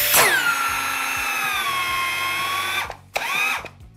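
A mini circular saw bites into wood at close range, whining steadily for about three seconds before the blade catches and stalls, then briefly revs again and cuts out.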